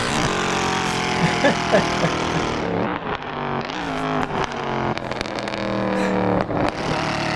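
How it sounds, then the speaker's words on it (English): Loud Mercedes safety car engine droning steadily through a rolling start lap at Daytona Raceway, a harsh, distorted roar with rising and falling revs and no pauses across the whole stretch. "we're gonna take a lap behind our incredibly loud safety car"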